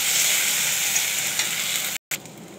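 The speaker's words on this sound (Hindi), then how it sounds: "अब अदरक जीरा और लहसुन के पेस्ट देखिए एक साथ को हम फ्राई कर लेंगे" A steady, loud sizzle of ginger, cumin and garlic paste frying in hot oil, close up, broken by a brief silent cut near the end before the sizzling resumes.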